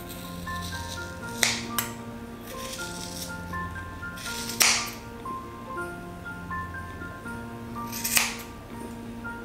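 Large kitchen scissors snip through wool yarn while a pompom is made for a Christmas decoration. A few crisp, separate cuts land across the quiet stretch and stand out over a faint steady tonal hum.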